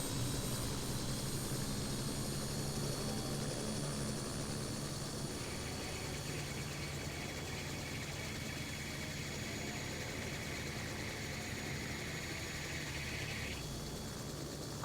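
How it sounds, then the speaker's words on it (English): Helicopter engine spinning up in the mobile game Helicopter Simulator 2021, a steady dense whine and rotor drone that holds level throughout with a higher tone joining midway. "But first, turn the helicopter on."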